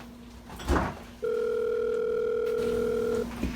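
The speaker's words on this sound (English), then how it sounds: "It's ringing. That's what phones do." A misplaced cell phone being called rings with a steady electronic tone lasting about two seconds, preceded by a brief rustling clatter, in a quiet indoor room.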